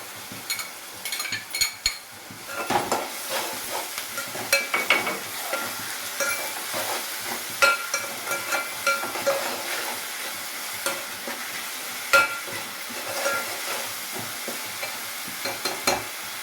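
Onions and homemade masala fry in a pan while a spoon stirs and scrapes, giving a steady close sizzle broken by irregular metallic clinks and stirring strokes; no one speaks.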